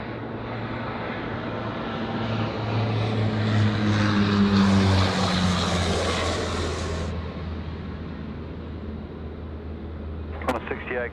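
An All Nippon Airways airliner rolls at Sydney Airport, its engines making a steady, loud jet roar that swells toward the middle and eases off, with a low hum beneath and brief background voices.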